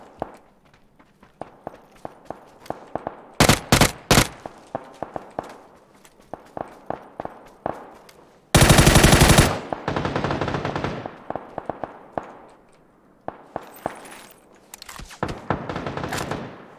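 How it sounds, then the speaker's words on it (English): Gunfire in the PUBG video game: sharp bursts of automatic fire and single shots crack out between quick game footsteps, with one long sustained volley in the middle and scattered shots toward the end. "They're shooting."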